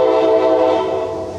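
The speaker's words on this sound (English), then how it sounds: "Train." A passing train sounds a sustained, loud horn made of layered, steady tones. It fades slightly toward the end, and no one talks over it.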